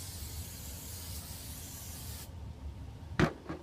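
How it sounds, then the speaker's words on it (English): Hairspray is sprayed onto hair styled up with gel for competition, a steady close hiss for about two seconds, then a quick short burst. "And, of course, hairspray."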